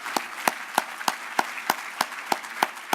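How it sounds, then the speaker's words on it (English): An audience at an awards dinner for a drug-free kids campaign claps in a slow, steady rhythm of sharp, evenly spaced hand claps over a soft bed of applause. "let's applaud them as well"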